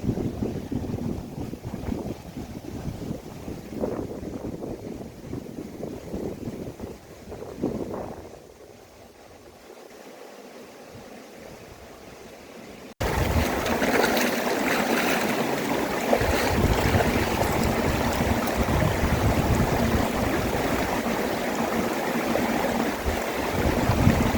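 A small forest stream flows near Kottur Hill in Tamil Nadu, giving a steady rushing and babbling sound mixed with wind buffeting the microphone. It dips briefly, then returns louder and fuller for the rest of the stretch.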